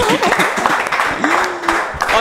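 Audience applause on a French-language talk show, clapping mixed with voices and a brief tonal sound, moderately loud and continuous.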